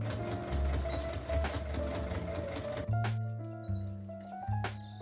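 A sewing machine top stitches a 1940s-style playsuit in close, steady mechanical whirring runs, the motor pitch shifting as speed changes, with short pauses between bursts.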